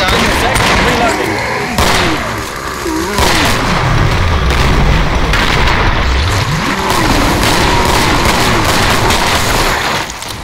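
Loud, dense gunfire from dual magnum pistols and an EBR rifle in the Killing Floor shooter, booming shots and bursts filling the whole stretch with heavy low rumble, mixed with game chatter.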